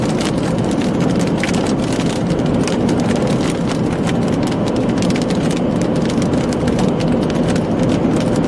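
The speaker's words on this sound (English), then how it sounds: "It sounds like there's a hailstone." Rain and hailstones drumming on a storm chaser's vehicle during Texas severe weather, a loud, constant downpour dotted with sharp clicks and taps of hail striking the body.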